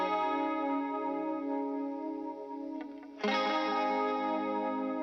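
Electric guitar take from a rock song mix, right channel, heavily effected with chorus and distortion, holding a sustained chord that dips briefly before a fresh strum rings out loud and close.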